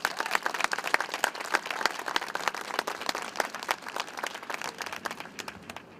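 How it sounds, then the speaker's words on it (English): An audience at an apartment ribbon-cutting ceremony applauds for several seconds, with dense, crisp individual claps that thin slightly toward the end. "I know she's getting a lot of applause"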